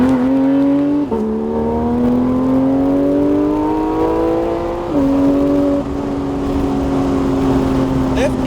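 A car engine on the Nelson Ledges Raceway track drones loud and close as it pulls through the gears, its pitch climbing steadily with brief drops at shifts.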